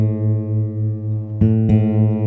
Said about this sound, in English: If they were out of tune, it might sound like this.